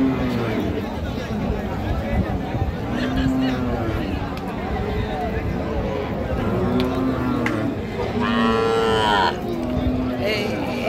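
Cattle at a cow and calf market low repeatedly over a steady crowd babble, several drawn-out moos from bulls and calves rising and falling, close and loud, with traders talking throughout.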